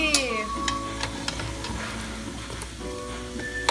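Polvilho biscuits fry in a pan of oil that was started cold, a steady close bubbling crackle with faint clicks of a utensil stirring or turning them.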